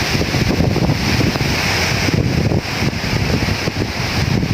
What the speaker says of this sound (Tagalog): Lumalakas na po yung hangin.